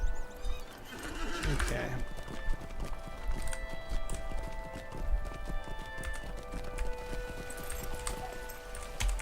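A horse in the Lord of the Rings Online game trots with steady clip-clopping hooves and lets out a loud whinny early on, while a player murmurs briefly over the game sounds.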